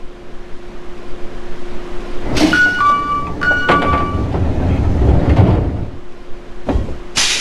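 One-man local train departing: doors slide and thud shut with a brief chime-like tone, followed by low rumbling and clanks as the railcar begins to move.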